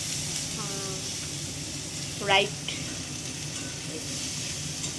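Ghee hisses and sizzles steadily in a hot pan where paneer is being fried, a continuous soft crackle underneath a brief spoken word.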